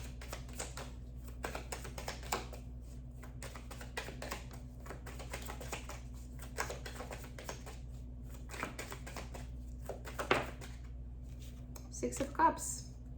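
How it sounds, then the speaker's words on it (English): Tarot cards are shuffled by hand in a quiet room, giving faint, rapid riffling clicks and soft flutters that come in repeated bursts. "Let me shuffle a little."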